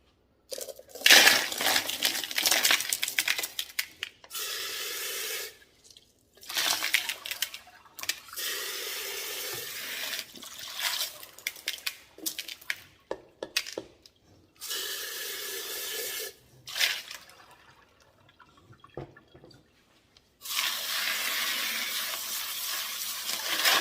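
Tumbled rose quartz stones being rinsed under running water, with bursts of splashing and rattling of stones broken by short pauses, close and fairly loud, with no talking.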